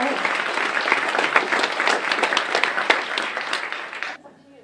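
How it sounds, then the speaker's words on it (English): A crowd at a local business awards event bursts into a full round of applause, steady and dense, then cuts off abruptly near the end. "So let's give them a round of applause."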